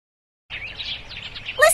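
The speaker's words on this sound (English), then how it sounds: "to the birds singing. Are those sparrows? Yes, they are." Short, busy twittering of sparrows begins after a brief silent moment, a stream of quick high chirps heard up close, rising into a sharper cluster of calls at the finish.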